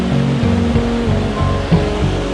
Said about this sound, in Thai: นั่งกินข้าวฟังเสียงน้ำตก